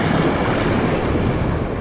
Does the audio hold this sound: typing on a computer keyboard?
no